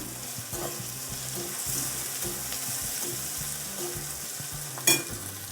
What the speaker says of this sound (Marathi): हिरवी मिरची आणि लसूण घेतलेलं आहे हिरवी मिरची सहा सात न घेतलेत आणि लसूण पाच सहा घेतले व्यवस्थित परतून घ्यायचे